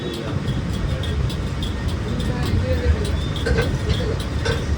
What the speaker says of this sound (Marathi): येस मी ट्रेनमध्ये चढलो आहे